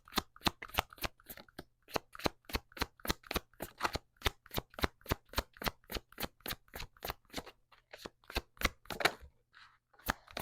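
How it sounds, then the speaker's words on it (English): An Akashic Oracle card deck is riffled in quick, sharp bursts, a close, regular series of crisp snapping shuffles with a brief pause near the end before the rhythm resumes; no voices. "I'm going to pull a couple cards from that"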